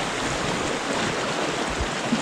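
A fast-flowing river current rushes close by as a steady, loud wash of broadband water noise with no pauses or breaks.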